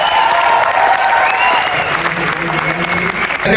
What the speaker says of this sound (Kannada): ಎಲ್ಲರಿಗೂ ಹೊಡೆದು ಬಿಡ್ರಿ ಚಪ್ಪಾಳೆ